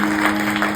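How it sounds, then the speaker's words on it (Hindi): A short burst of audience clapping at a Khatu Shyam devotional gathering, dense and close, over a steady low hum. "जोरदार ताली करें।"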